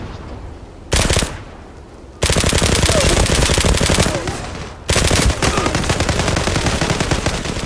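Automatic rifle fire in the online shooter Zula comes in loud, close bursts of rapid shots separated by short gaps, one long sustained stretch of firing among them.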